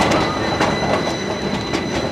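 A tram rumbles past close by on a Gothenburg street, a steady broadband roar with faint wheel squeal and rhythmic clicks from the rails.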